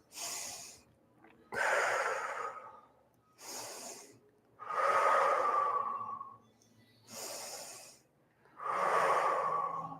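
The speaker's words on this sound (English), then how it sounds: "Inhale through the nose." Slow, deep breathing in a guided class, alternating long airy inhales through the nose and longer whistling exhales, six close breaths with brief silences between and no talk.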